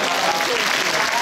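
Crowd applause and cheering at an Akita Kanto festival performance at Furusato Matsuri Tokyo, a dense, loud, continuous wash of clapping filling the brief moment.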